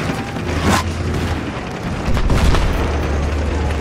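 A detonated charge goes off in Battlefield 3, a deep, loud boom followed by a sustained rumbling roar, with a second heavy swell of blast noise partway through and no voices.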